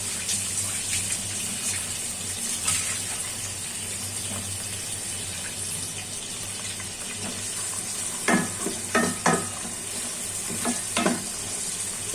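Chopped onion, green chili, ginger paste and garlic paste being stirred in a hot pan, a steady broadband sizzle with a few sharper scraping clinks of the spatula near the end, no voices.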